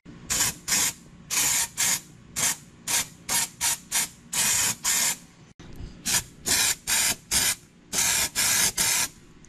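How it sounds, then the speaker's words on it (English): Dry shampoo aerosol sprayed in short and longer hissing bursts onto a car part to dull its surface for 3D scanning, about sixteen close, loud blasts in an uneven rhythm with brief pauses between them. "So first thing we're gonna do, bust out the dry shampoo again."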